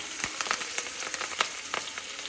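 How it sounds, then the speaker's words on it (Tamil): Cumin seeds crackle in a little hot oil in a pan while paneer bhurji is cooked, a steady close sizzle dotted with sharp popping bursts. "இதில் வந்து கொஞ்சமாக எண்ணெய் விட்டு சீரகம் போட்டிருக்கேன்"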